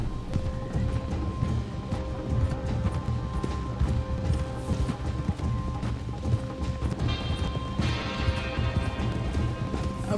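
Horse hooves clip-clop steadily over a busy outdoor background, with an occasional whinny and clatter mixed in; no one speaks.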